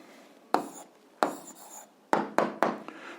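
A pen writing out the answer to an 8th-grade algebra exercise on paper, with five quick scratchy strokes separated by short pauses, close and clear, with no voice.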